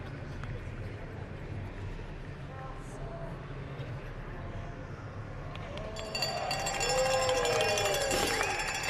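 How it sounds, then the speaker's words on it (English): At a curling exhibition game, a crowd murmurs quietly under low rink ambience, then rises into a louder, lively reaction with voices and whistle-like tones over the last few seconds. "Crowd liked that shot."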